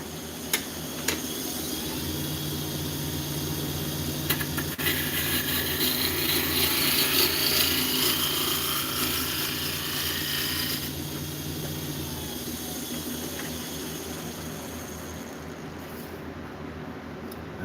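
A woodturning lathe making a straight cut into a wooden piece, with a steady motor hum and a bright, scraping cutting hiss for several seconds in the middle before easing off.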